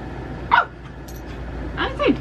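Dog indoors giving two short sharp barks close by, a second or so apart, over quiet room noise.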